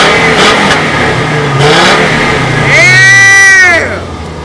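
A 2004 Chevy Colorado pickup with a five-cylinder engine revs loudly, its pitch climbing and falling in one sweeping surge near the end over a steady running drone, with voices and noise around it.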